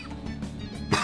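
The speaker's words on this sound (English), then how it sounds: "I was coughing!" A single short cough bursts out near the end, close and fairly loud, during a Persona 5 Royal game session with steady game sound underneath.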